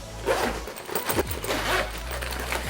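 An AMJ crossbody sling bag with USB has its front zipper compartment pulled open: a close, rasping zip in a few quick strokes, with no voices.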